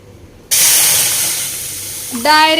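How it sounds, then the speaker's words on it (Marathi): Water poured into a hot kadhai heating for tamarind candy gives a sudden loud hissing sizzle that slowly eases, with a clanging metallic ring near the end. "मी टाकलं या कढईमध्ये पाणी"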